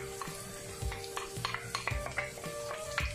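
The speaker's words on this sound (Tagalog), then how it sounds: "Ayan, haluin natin." Fish fillet and tofu being stirred in a pan with oyster sauce: a utensil scrapes and clinks against the pan in uneven strokes over a soft sizzle, close and fairly quiet, with no talking.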